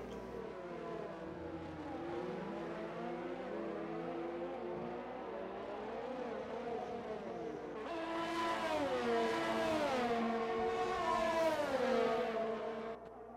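Formula 1 race cars in a racing video game at the Japan round, a continuous high engine whine rising and falling through gear changes, with a second car joining louder in the last few seconds, no talking.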